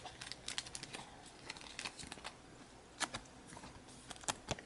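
Scissors snipping open trading card booster packs, a series of quick sharp cuts and crinkling foil wrapper noises close up, irregular and fairly quiet with no talking.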